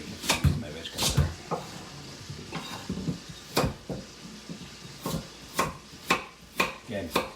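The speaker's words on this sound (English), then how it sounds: "My veg cutter." A handheld veg cutter chops vegetables for an English-style pot roast, giving sharp, uneven knocks on a board, some close and loud, spaced through the passage with a person talking between and over them.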